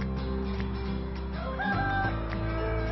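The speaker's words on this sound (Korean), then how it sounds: "닭을 키우며 산에서 사는 송영서 씨." Chickens and a rooster on a mountain farm, with a rooster's crow rising midway over steady clucking and fowl chatter, fairly close and with no talk.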